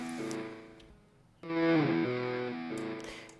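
Short chopped fragment of a distorted, heavily processed guitar sample, sustained gritty chords cutting out briefly and returning louder, with no voices.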